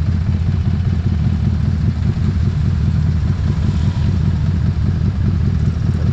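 A steady, low engine rumble from a Harley-Davidson Street 500 motorcycle on the move, continuous and fairly loud with a constant drone throughout.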